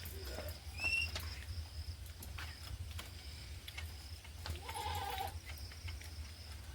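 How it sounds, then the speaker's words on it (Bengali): A goat bleats a few times in short calls at moderate distance, set against a rainy rural yard with steady low hum, insects and scattered drips after a downpour. "ছাগলটা ওদিকে ডাকছে বাইরে বাড়ানোর জন্য"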